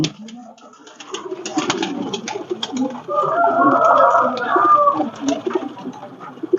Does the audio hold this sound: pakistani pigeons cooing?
yes